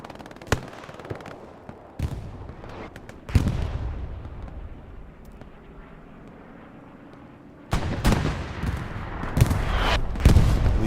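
Artillery shells landing on a trench in the Hell Let Loose video game, heavy booming blasts with rumbling decay, a few isolated hits and then a dense cluster of explosions toward the end.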